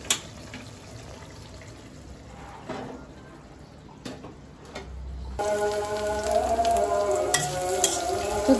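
Chicken frying in a pan with a steady sizzle that swells louder partway through, with stirring and occasional clatter close by.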